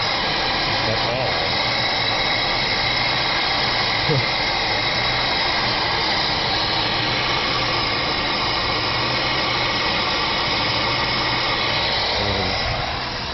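Dodge Magnum engine idling unevenly after a dropped valve seat repair, a continuous loud drone with a faint whine and a slow, irregular pulsing in the low rumble.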